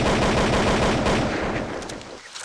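Counter-Strike 1.6 sound effects for an AKS-74 rifle in a Stalker mod: a loud rapid burst of automatic fire that rattles on, then stops, leaving a fading tail and a brief metallic click at the end.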